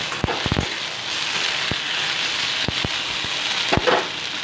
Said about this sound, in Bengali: আলু, পেঁয়াজকে ভালো করে তিনটিকে ভালো করে ফ্রাই করে নিতে হবে